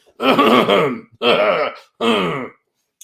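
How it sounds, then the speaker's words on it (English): A voice makes three throaty, clearing sounds in a row, each a short rough burst separated by brief pauses, close and loud. "she's literally just having to clear her throat"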